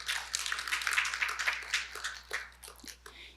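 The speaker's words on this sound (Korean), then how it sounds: "다시 한번 큰 박수 부탁드리겠습니다" Audience applause at an autism festival opening ceremony, a burst of many hands clapping that is strongest at first and then thins into scattered claps as it fades.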